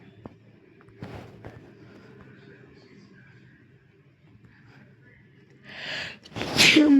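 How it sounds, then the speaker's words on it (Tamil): A loud, close sneeze bursts out near the end after a few seconds of quiet room noise and faint shuffling, with a sharp intake of breath just before it. "தும்மடி"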